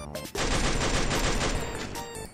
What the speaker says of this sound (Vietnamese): Súng trường